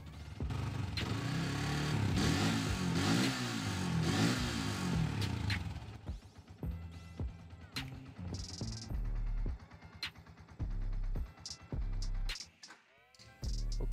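A motorcycle engine is revved during a pre-purchase inspection, loud and close, with a long sustained roar that then breaks into short blips and idle, mixed with clattering and handling noises.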